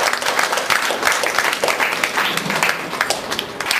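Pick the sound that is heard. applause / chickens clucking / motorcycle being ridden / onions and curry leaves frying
applause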